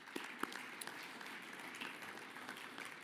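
Faint, steady applause from an audience at a community safety gathering, a soft continuous patter of many hands with a few sharper claps standing out near the start.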